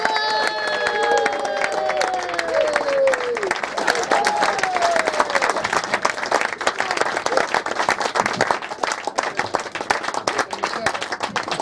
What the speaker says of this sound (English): Please surrender your applause, Mr. Aaron Simmons!